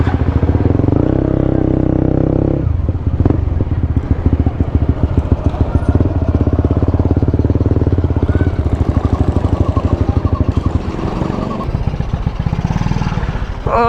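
A Honda CB150X motorcycle idles near a parking spot, its engine close and loud with a rapid, uneven putter and some clatter, while people talk briefly nearby.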